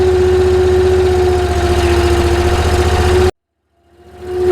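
Engine of a firewood processor idling steadily, a loud, constant throbbing drone with a strong hum, cutting out abruptly near the end before starting to rise again.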